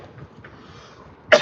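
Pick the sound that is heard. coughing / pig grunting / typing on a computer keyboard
coughing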